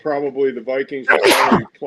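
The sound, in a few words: sneeze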